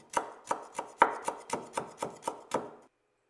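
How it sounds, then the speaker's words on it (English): Folded kaffir lime leaves being finely sliced with a knife on a board, ten crisp, evenly spaced chopping taps in a steady rhythm, close and clear, ending abruptly with no voice. "it's best to fold them together tightly and very carefully slice off tiny slivers"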